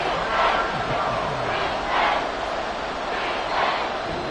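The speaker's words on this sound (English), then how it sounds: "The crowd getting into it as we come up on a big 3rd down" A stadium crowd in the Madden 24 football video game roars ahead of a big third down, a sustained wash of cheering that swells in several waves.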